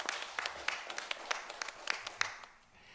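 A church congregation gives a round of applause after a sermon prayer. Scattered, fairly faint claps sound at a moderate distance and thin out toward the end.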